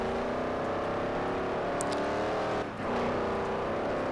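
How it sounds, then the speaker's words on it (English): A car engine in the Forza Horizon racing game revs up and climbs steadily in pitch, with a brief dip at a gear change before pulling again, loud and continuous. "I was listening to the rev sound and you know, it goes very high"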